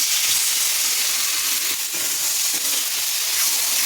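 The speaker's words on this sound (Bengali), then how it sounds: "এইবার ম্যারিনেট করা মাংসটা দিয়ে দেবো।" Marinated mutton hits fried spice paste in a wok and sizzles in a dense, steady hiss at close range, unbroken for several seconds.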